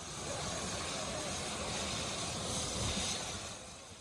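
A steady, loud engine roar with a broad rushing whine from a rescue helicopter running nearby, holding level throughout and easing off slightly at the end.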